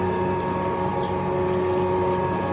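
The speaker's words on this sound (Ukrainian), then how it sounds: "Тут у нас сам прес." An oil press runs while pressing out oil, a steady mechanical hum with grinding, churning texture and constant tonal drone, close and continuous without pause.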